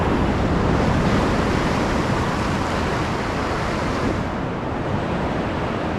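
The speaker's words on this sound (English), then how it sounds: "These waves are huge" Large ocean surf crashes continuously near a shore where fishing is taking place, a loud, unbroken roar of breaking waves with wind noise buffeting the microphone throughout and no talk.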